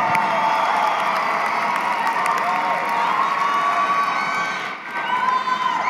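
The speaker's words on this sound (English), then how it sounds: "give them a great round of applause" A commencement crowd applauds and cheers at a business graduation ceremony, sustained loud clapping with scattered whoops, dipping briefly near the end before swelling again.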